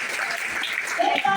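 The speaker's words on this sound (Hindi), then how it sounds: "बहुत सारे तालियां" Audience clapping at a business plan meeting in Dombivli, Thane, a steady, dense wash of applause from a full room that holds for the whole moment, with a voice rising briefly over it near the end.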